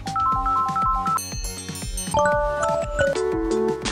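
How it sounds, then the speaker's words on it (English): Ringtone previews on an Android phone play one after another, short chiming and melodic tones changing abruptly every second or so, clear and up close with no speech. "You can choose from the list of ringtones by tapping the one you like."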